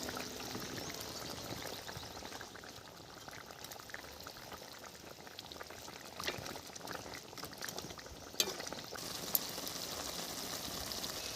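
Fish curry gravy simmers and bubbles quietly in a pot as fish pieces are added, a soft, steady boiling hiss with a couple of faint clinks.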